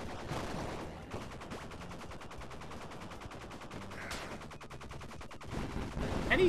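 Rapid gunfire bursts in the video game Bleed, a dense run of evenly spaced shots that rattles on for several seconds at steady loudness, with no talking.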